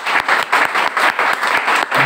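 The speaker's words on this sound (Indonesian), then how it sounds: "Kita berikan tepuk tangan bagi" Rhythmic group clapping at a Saturday night church worship service, a steady beat of loud, close claps in even pulses with no talk over it.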